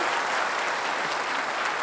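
Steady, dense applause from a studio audience at a televised Jakarta gubernatorial election debate, continuous and fairly loud throughout with no speech over it.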